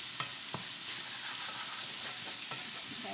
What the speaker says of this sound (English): I'm cooking the onions here.